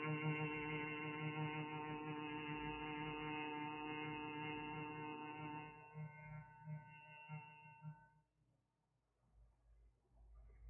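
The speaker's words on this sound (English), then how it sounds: "exhaling, start the gentle humming sound, long, deep, and" A long, deep, gentle human hum sustained on a steady low pitch while exhaling, rich in harmonics, fading out after about eight seconds into quiet breath.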